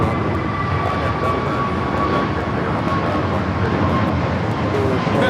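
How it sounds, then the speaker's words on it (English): A UPS Boeing 767-300 freighter landing at LAX, a steady broad roar of jet engines with a faint whine, continuous and moderately loud, no voices over it. "We have a UPS 767-300 freighter coming in from Louisville, Kentucky. About to land here."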